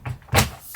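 A sliding shower door being pushed shut inside a camper van, a single loud thud with a brief rattle near the middle, fairly close, with no talking.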